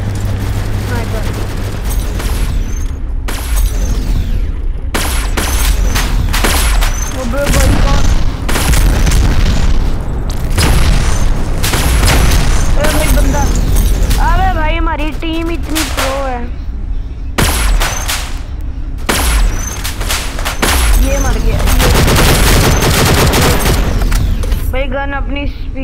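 Gunfire and booming blasts crack rapidly and loudly throughout a match of the mobile shooter Infinity Ops, including sniper rifle play, with mechanical reload clicks and a voice talking over the action.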